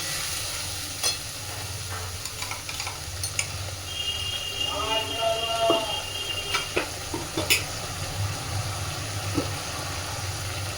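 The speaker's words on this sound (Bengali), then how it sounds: "খুব সুন্দরভাবে এবার মশলাটাকে কষে নিতে হবে।" Spice paste frying and stirred in a pan for a bhetki fish-bone chorchori, a steady soft sizzle with occasional scraping stirs, close and low in level under a constant background hum.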